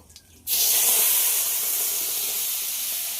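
Blended spice paste hits hot oil with cumin seeds in a pan, cooking for a jackfruit seed and chana dal dish. A sudden loud sizzle bursts in and holds as a steady, close hiss that eases slightly as it goes.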